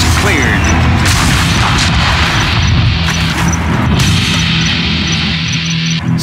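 Aurora bomber dropping bombs in Command and Conquer Generals, a dense, constant roar of explosions and crashing booms throughout, loud and close, with no gaps between blasts.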